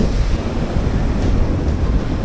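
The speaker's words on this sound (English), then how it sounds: "Is it just waves? I think it's just the motion of the ocean." Sea waves at Marine Hall, Fleetwood, a broad continuous wash of surf mixed with gusty wind buffeting the microphone, steady and fairly loud with no talk.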